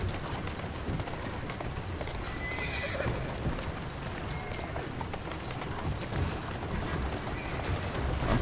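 Galloping hooves clatter continuously while a horse neighs now and then in the video game Assassin's Creed, set in a dense, noisy outdoor London soundscape with faint bird calls.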